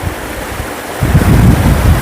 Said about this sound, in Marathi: या निसर्गामधून वाहणारे हे पाणी आणि या ठिकाणी पाणी पडते